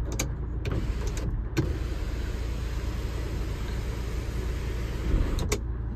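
Electric sunroof on a 2018/19 Hyundai Creta 1.6 SX(O) sliding open inside the parked car, a steady motor hum running close and even throughout with a few brief clicks and shifts, no talking.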